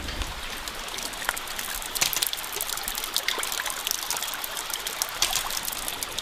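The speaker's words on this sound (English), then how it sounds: "Once you've got your valve open, you'll start getting water out of the end of the hose." Water from a hydraulic ram pump splashes and trickles steadily out of the end of a hose, a continuous close hiss with small irregular spatters.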